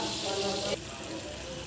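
Rice-washing water poured into a pan of cooking eggplant curry makes a short, close rush of hissing splash that stops abruptly, leaving a faint simmering sizzle.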